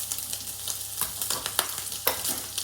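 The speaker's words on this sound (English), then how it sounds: "Now it's sizzling." Rice and pork mince sizzle in a hot pan, a steady crackling hiss broken by scraping stirs at a close distance, with no voices.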